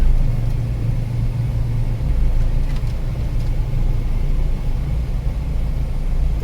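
A vehicle rumbles along a road through a tea estate, its engine a steady low drone that stays close and even throughout, with no voices over it.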